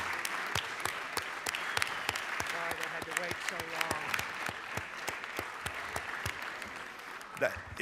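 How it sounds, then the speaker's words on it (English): A standing audience applauds in a legislative chamber during a session day, a steady patter of many hands with individual claps audible, while people talk underneath. "join me in rising and giving applause"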